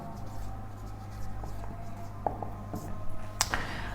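Pen or pencil scratching quietly on paper while a math solution is written out, soft and continuous with faint taps, set against a steady low hum and room noise.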